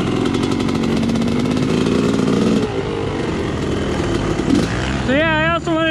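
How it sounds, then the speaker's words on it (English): A loud engine with an exhaust leak runs with a rough, raspy, popping exhaust note, idling unevenly, then a whistling warble rises near the end. "Now that I got an exhaust leak."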